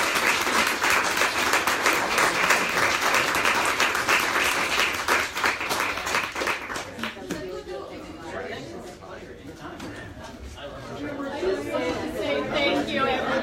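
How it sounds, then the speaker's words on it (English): A seated audience applauds a gerrymandering panel at the Blaine House with loud, dense clapping for several seconds, then the clapping fades into murmuring chatter and talk around the room. "Round of applause for the panel."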